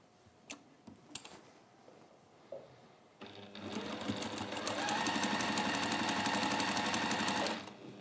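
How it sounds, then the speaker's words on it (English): A sewing machine stitching a 1/4 inch quilt seam: after a few soft clicks and handling sounds, a steady, close, fast mechanical whirring with rhythmic ticking runs for about four seconds, then stops. "So again, just line those up and sew 1/4 inch seam."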